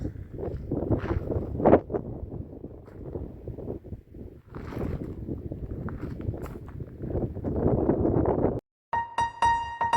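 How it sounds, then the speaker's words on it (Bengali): Strong wind roars steadily across a microphone during a walk through a forest trail toward a waterfall, with gusty low rumbling throughout and a few scuffing footsteps, ending in a brief different tonal sound. "প্রবল হাওয়া।"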